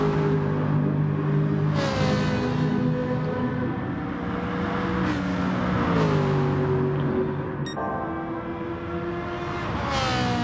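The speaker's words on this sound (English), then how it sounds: "I love the sound of Ferrari though." A Ferrari GT race car in a racing sim game screams loudly as its engine revs through repeated upshifts and downshifts, continuous and close, with no talking.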